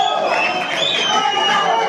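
An audience at a pool tournament final claps and murmurs in a steady, dense wash of crowd noise, with a commentator's voice running over it.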